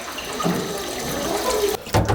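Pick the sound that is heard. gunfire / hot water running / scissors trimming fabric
hot water running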